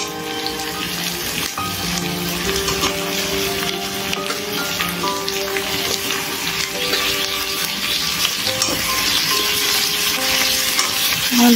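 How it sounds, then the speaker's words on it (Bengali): Potatoes stir-fried with onions and chicken in a pan for a doi chicken dish: continuous loud sizzling with stirring and scraping throughout. "আজ আলুগুলোকে আমি পেঁয়াজের সাথে কষবো, মাংসের সাথে ভালো করে কষবো।"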